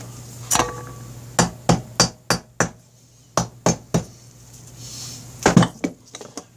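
Sharp hammer taps on a Honda Rebel 250 motorcycle cylinder as it is seated onto dowel pins, about a dozen crisp metallic knocks in short irregular bursts, close and clear with no talk.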